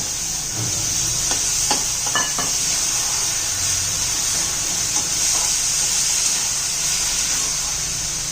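Sprouted moth beans dropped into sizzling masala in a pan and stirred for a dry spicy matki dish, with a steady frying hiss throughout and a few soft scrapes and clinks of the spoon near the start.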